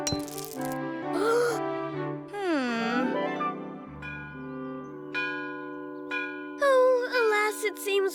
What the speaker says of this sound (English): it seems we just start to play and the school bell rings